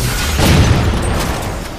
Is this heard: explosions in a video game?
yes